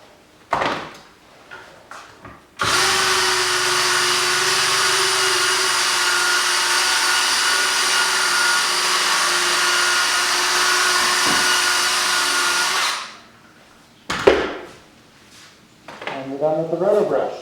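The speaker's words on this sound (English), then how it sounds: "And we're done with the roto brush." A drill-driven roto brush works a ski base, giving a loud, steady high whirring hum that runs for about ten seconds close by, bracketed by short knocks and handling sounds, with a voice heard briefly near the end.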